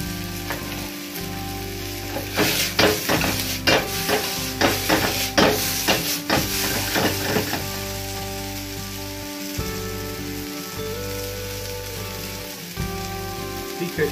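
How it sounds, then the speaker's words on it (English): Bean sprouts hit a hot wok for a takeaway-style beef chow mein, crackling in a steady loud sizzle like rain, broken by clattering stirs and scrapes, with no one talking. "Then I'm going to add my bean sprouts."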